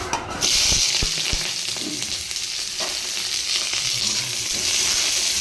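Red amaranth greens and onion frying in oil in a kadai give a loud, steady close-up sizzle, with a few knocks of stirring near the start.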